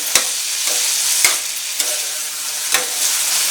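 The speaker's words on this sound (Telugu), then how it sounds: "ఇప్పుడు ఈ అన్నింటిని కలిపి ఒకసారి గట్టి పెట్టి కలుపుకోవాలి" A spoon stirs a tomato and tamarind mixture in a pan, with a soft continuous sizzle broken by several sharp scrapes and taps against the pan at irregular intervals.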